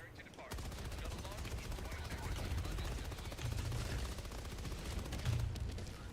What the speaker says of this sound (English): There is a fucking asshole that's trying to shoot us.